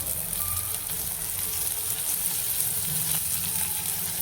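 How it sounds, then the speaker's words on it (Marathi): Onion and mixed vegetables frying in a pan after curry leaves, giving a steady close sizzle that stays even throughout with no talk. "आता यामध्ये मी कांदा टाकून घेणार आहे. आता यामध्ये भाज्या टाकून घेऊया आपण सर्व थोड्याशा."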